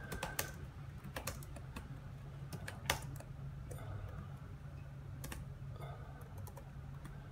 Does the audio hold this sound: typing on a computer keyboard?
yes